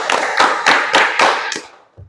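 An audience at a school counseling session performs the rhythmic 'tepuk malam' clap, with six crisp group hand-claps in a steady beat, loud and near, ending in silence.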